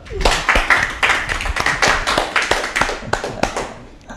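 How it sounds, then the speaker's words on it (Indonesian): A small audience claps for the stand-up comedian Fuad at a talk show, a loose ragged run of individual hand claps, close and fairly loud, with no talk over it. "tepuk tangan untuk Fuad"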